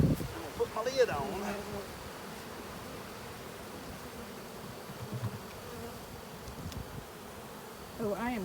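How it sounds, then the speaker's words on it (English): A swarm of honeybees buzzes in a dense, steady drone around a hive at an airport, close and continuous, with a few brief rustling knocks at the start and end. "Oh, I am covered in bees."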